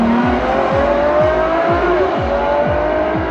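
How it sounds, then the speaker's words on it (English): A Ferrari racing engine revs hard and steadily, a loud continuous drone with rhythmic gear-change pulses, running close and alone without talk. "Ferrari is still famously known for the specific sound of their engines."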